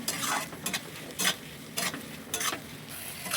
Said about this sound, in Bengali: এরপরে রসুন ও লঙ্কা বাটা দিয়ে ভালো করে পেঁয়াজের সাথে কষিয়ে নেব যতক্ষণ না রসুনের কাঁচা গন্ধ যাচ্ছে।